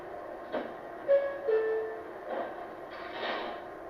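An MTH R142A model subway train set runs with a low rolling rumble, a few sharp clicks and short rising whines as it moves along the track, alone and moderately close.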